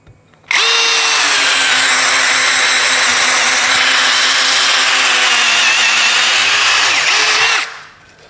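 A DOLIZ BD636 12V brushless compact cordless drill runs at steady speed for about seven seconds, a loud, even whine with a sharp start and a tapering stop, no talking.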